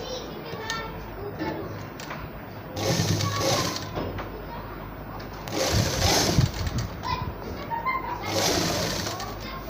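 A sewing machine stitches a baby boy's shirt (kameez), running in three rhythmic whirring bursts with pauses between. Children's voices and chatter sound throughout.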